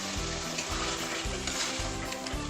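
Chicken bhuna masala sizzling loudly in a pan while being stirred, a steady dense frying hiss with regular scraping strokes of the spoon roughly every half second, close up and with no voices.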